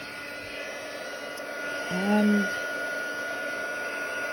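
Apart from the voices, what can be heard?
heat gun blowing hot air on embossing powder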